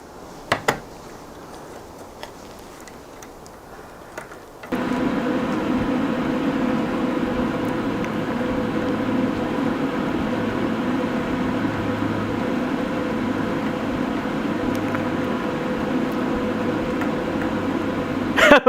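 A model vertical-axis wind turbine with tubercle blades spinning at about 149 RPM; after a few faint clicks, a steady close mechanical hum and whir starts abruptly and holds at an even level.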